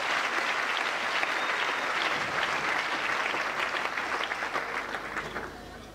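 Church congregation applauding in a steady, dense burst of clapping that fills the room for several seconds before easing slightly at the end.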